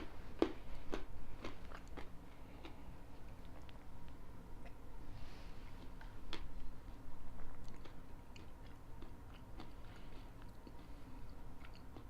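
Almonds are crunched and chewed close up as a snack alongside Whistlepig 15-year straight rye whiskey, with irregular crisp bites and soft mastication over a quiet background.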